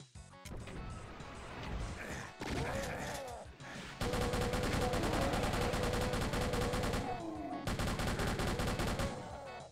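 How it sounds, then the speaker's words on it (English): Shotgun and other weapons fire in Ultimate Doom, with a rapid burst of loud gunfire and in-game effects, then sustained dense firing through most of the clip, no talk. "the shotgun is a little bit faster"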